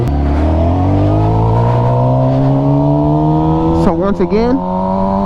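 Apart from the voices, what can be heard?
engine revving at full throttle during a power wheelie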